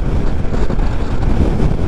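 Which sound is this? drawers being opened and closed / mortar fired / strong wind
strong wind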